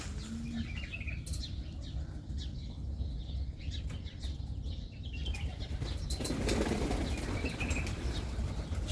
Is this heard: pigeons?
yes